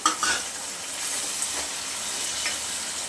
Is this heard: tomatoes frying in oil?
yes